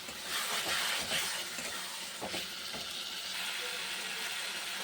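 A spice paste of chilli powder, turmeric and salt, loosened with rinse water, sizzles and spatters in a pan while being stirred and fried, with a few louder scraping bursts near the start and a steady frying hiss after.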